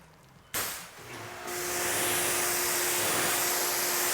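Water sprays steadily from a hose or pressure rinser onto a car panel coated with graphene coating or spray wax, starting abruptly and building into a continuous loud hiss with no talk.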